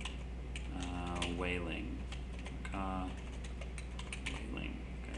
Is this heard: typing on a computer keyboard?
yes